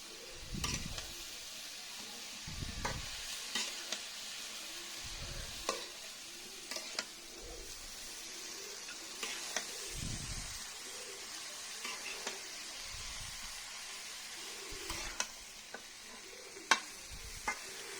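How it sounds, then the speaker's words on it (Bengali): Beef and kaijal are stirred and fried in a pan, with a soft steady sizzle broken by repeated scraping strokes at a slow, regular rhythm, close and fairly quiet. "এখন মাংসটার সঙ্গে কাজালটা ভালোভাবে কষিয়ে নিব নেড়ে চেড়ে কষিয়ে নেব"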